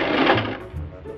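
A sewing machine stitching briefly in reverse to lock a seam, giving a short burst of rapid mechanical whirring and clatter that lasts about a second.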